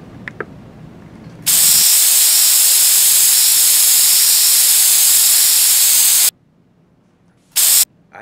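A spray can hisses loudly and steadily for about five seconds, then gives a second short burst, with faint room noise between and no talk.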